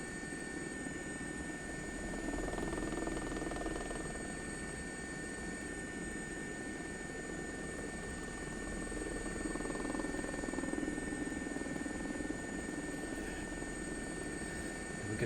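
Steady, loud rotor and engine drone from inside a helicopter flying over Windsor Castle, a constant churning roar with a faint high whine throughout and no break.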